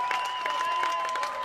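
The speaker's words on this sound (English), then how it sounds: "Listen to this applause." Applause from a crowd at a Burke Black vs West Fargo baseball game, a steady wash of clapping with faint cheers, moderately distant and continuous through the moment.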